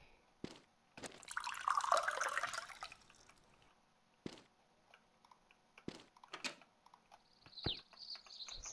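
Water drips and splashes while a dog is given water in the video game Mon Bazou: a short burst of pouring water, then scattered separate drips and taps, with no one talking.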